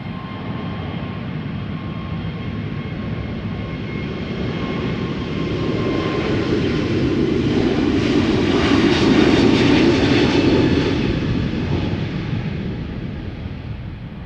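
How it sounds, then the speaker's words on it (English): A JetBlue Airbus A321neo, about a year old, departs Schiphol Airport bound for Boston, its jet engines roaring steadily and swelling to a loud peak midway before slowly easing off as it climbs away. "Here we go, JetBlue flight 632 A321neo outbound to Boston, Massachusetts."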